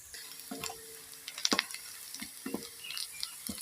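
Onions fry in a pan for mukimo, giving a faint, quiet sizzle broken by a few soft clinks and scrapes of stirring, with no voices.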